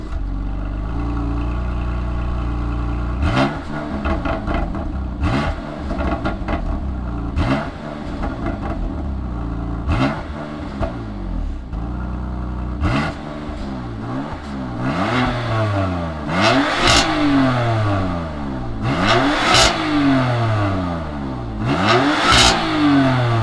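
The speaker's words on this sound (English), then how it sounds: "let's fire up this M4 and see what it sounds like" A BMW M4 with an inline-six engine, a 2020 model, fires up and then revs hard again and again, with sharp rising and falling sweeps. The blips come in quick bursts and grow louder toward the end, recorded close with no talking.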